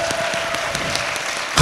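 A church congregation claps with raised hands in praise, a dense steady wash of applause filling the whole moment at an even, loud level with no break.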